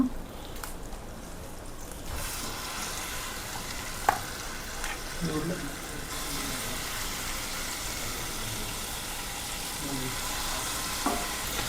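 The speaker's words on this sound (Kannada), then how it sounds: "ಸೊ ಈಗ ಆಲ್ರೆಡಿ ಮ್ಯಾರಿನೇಟ್ ಮಾಡಿರುವಂಥ ಚಿಕನನ್ನು ಹಾಕುವ" Marinated chicken frying in melted butter in a pan hisses and sizzles steadily, with occasional louder crackles and stirring sounds, close and sustained with no speech over it.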